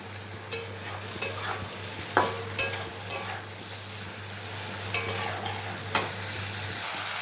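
Shrimp sizzle steadily in hot oil in a pan, with a utensil scraping and tapping against the pan at irregular moments, all close up and with no talking.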